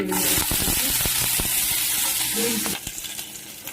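Spices fry in a pan for mutton biryani, a loud continuous sizzle broken by stirring scrapes, then the sizzle softens toward the end, with no talking.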